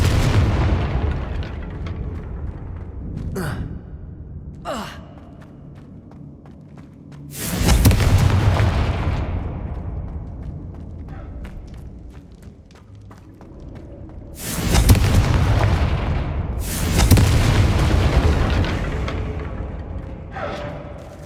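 Confringo blasting spells exploding in Hogwarts Legacy, two heavy booming bursts several seconds apart, each rolling into a long rumbling decay, with fainter thuds and pops in between.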